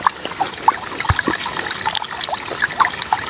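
Water trickles and dribbles from a spring-like outlet in a forest adventure park, a close, uneven babble of small splashes and gurgles with occasional louder plops.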